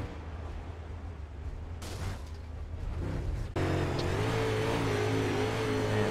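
UMP modified race cars roar around a dirt track during pre-race hot laps, a loud continuous engine drone that steps up sharply midway as cars pass close, with occasional popping bursts.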